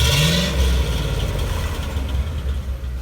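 Hot rod car engine revving through a newly fitted exhaust, a loud deep throaty blip that settles into a rumbling idle, heard close with no talk.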